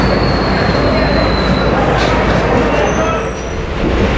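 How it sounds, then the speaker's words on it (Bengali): A train at Dhubri railway station produces a steady loud rumble and roar of rail noise with a faint high squeal, constant throughout. "ফাইনালি ট্রেন ধুবড়ি স্টেশনে আসি গেল।"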